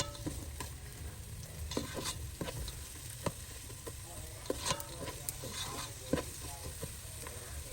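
Onion frying in olive oil sizzles steadily while a spoon scrapes and clicks against the pan in irregular stirring strokes, close and fairly quiet, with no talk.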